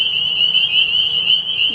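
A loud, continuous chorus of frogs calls at night, forming a steady, droning trill with no talk over it.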